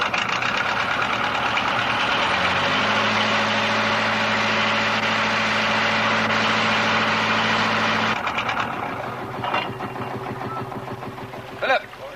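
A vehicle engine idles with a steady, low mechanical hum for several seconds, then cuts down to quieter background noise.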